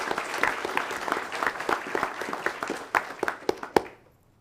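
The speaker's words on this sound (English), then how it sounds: "Let's give them a round of applause." An audience at a school board meeting claps for first-place technical drawing winners, a dense round of applause with sharp individual claps standing out near the end before it quickly dies away.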